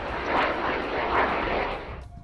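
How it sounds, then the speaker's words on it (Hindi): Tejas light combat jet built by Hindustan Aeronautics Limited flying at the Bengaluru air show, a loud steady engine roar swelling and easing in two broad waves before dropping off sharply, with no voices. "तेजस हल्का लड़ाकू विमान है जिसे हिंदुस्तान एरोनॉटिक्स लिमिटेड ने तैयार किया है।"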